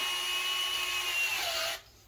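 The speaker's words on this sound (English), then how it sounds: "I'm going to take another drill and run it all the way through" A power drill whirs steadily, grinding through a wall, then stops abruptly near the end; close and loud, no speech.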